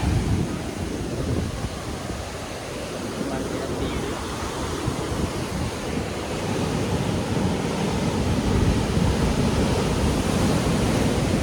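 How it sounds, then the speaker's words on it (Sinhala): Ocean surf washes onto Thalpe Beach in Sri Lanka as a continuous broad roar, with wind buffeting the microphone throughout and no distinct voices above it. "එතන මාර ලස්සන බීච් එක."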